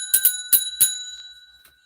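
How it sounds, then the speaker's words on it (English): A small, bright bell like a bicycle bell is struck about four times in quick, uneven succession. Each ring is clear and metallic, and the last one fades out, with no other sound. "So the bell has rung"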